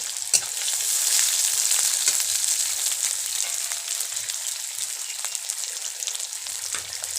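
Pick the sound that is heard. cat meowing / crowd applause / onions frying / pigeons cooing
onions frying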